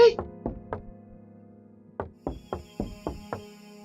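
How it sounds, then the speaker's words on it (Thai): Sharp knocks sound in a video game, three spaced raps and then a steady run of five or six more after a short gap, loud and close over a low droning background. "ใครเคาะ"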